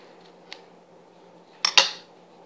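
A blade cuts through polymer clay (Fimo) on a hard surface, giving a faint tap followed by two sharp, close clicks and a short scrape in otherwise quiet surroundings.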